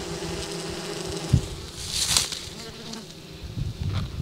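Honeybees in a queenless nuc hive drone with a steady, dense buzz, close to a small microphone, with a brief thump and some rising swells of louder buzzing.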